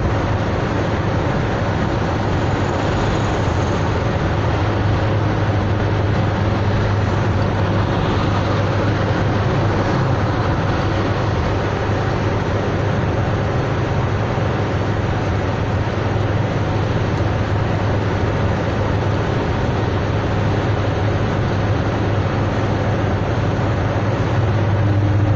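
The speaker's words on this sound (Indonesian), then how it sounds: "kita jalan kereta ya, train." Steady broadband rumble of traffic on the Jagorawi toll road in West Java, with a train running on the railway alongside; the noise is continuous and fairly loud for the whole stretch, with no clear single pass-by.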